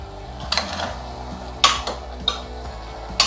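A spoon works through stew in a pressure cooker pot, with scattered metallic clinks and scrapes against the rim and sides, several crisp louder knocks standing out over a soft stirring background.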